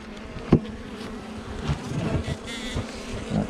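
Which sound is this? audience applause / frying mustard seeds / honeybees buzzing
honeybees buzzing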